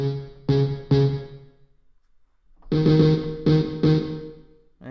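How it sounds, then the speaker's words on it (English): Gritty, distorted synth chords strike in short stabs, a pair then a group of three, with brief decays between. "Oh, that sounds like the distortion."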